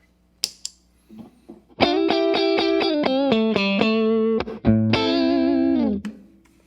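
An electric guitar through an Amazon Basics compressor pedal plays a phrase of evenly sustained, slightly squeezed notes after a few muted plucks, ending with a held ringing note.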